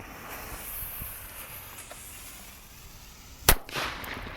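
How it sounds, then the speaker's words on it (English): An M90 firecracker bursts outdoors with one sharp, loud bang that stands out against quiet background hiss, followed by a brief scattering echo and debris. "this M90 Firecracker is ready to go, and let's see it in action"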